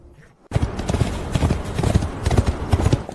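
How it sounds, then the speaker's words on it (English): Horse hooves clip-clop in a quick, steady rhythm close by, starting abruptly and continuing loudly without pause. "Just take the horse and go."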